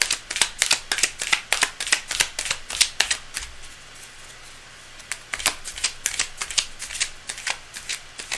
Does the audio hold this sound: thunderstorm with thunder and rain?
no